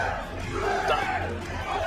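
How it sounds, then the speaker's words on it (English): A Yu-Gi-Oh! tournament crowd screams and yells in a dense, steady wall of voices that sounds fairly close and energetic, with some laughter mixed in. "I don't know if y'all can hear the screaming crowd over there through our microphones"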